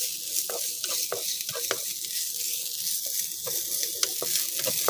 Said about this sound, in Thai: เราก็จะใส่หอมแดงสับลงไปค่ะ ผัดให้หอมแดงสุกดีนะคะ